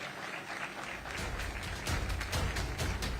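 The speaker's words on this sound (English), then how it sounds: "A round of applause, Mr. Peter Ndegwa, CEO, Safaricom PLC." Applause rises from a crowd at a rally launch event, fairly faint and distant, building into steadier clapping during the second half.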